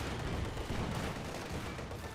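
Soviet conscripts fire their rifles at a Sturm Pioneer in Company of Heroes 2, a dense, steady crackle of shots with faint distant booms and no talking.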